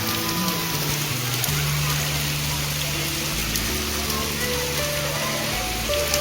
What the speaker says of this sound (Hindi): बहुत मूसलाधार बारिश स्टार्ट हो गई है।